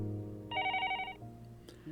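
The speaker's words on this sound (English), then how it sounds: "The next moment, the phone rang." Telephone ringing in the Higurashi visual novel game: a bright electronic ring burst over background music, clear and moderately loud, lasting under a second.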